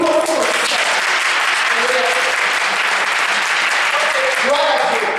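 A church congregation applauds in worship, a loud, dense and steady clapping from many hands with voices mixed in throughout.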